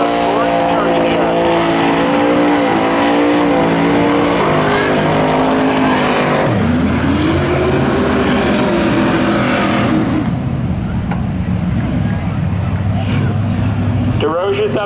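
A 1984 Chevy Camaro and a 1987 Pontiac Firebird roar down a drag strip at full throttle, engines screaming and shifting up in loud, sustained pitch sweeps, with an announcer talking over the racket.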